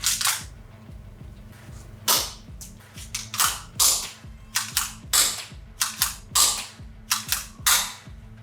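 A KELe M+P 40 G26 manual springer gel blaster fires repeatedly: a dozen or so sharp, snappy shots at an uneven pace, each with a faint mechanical click, close up.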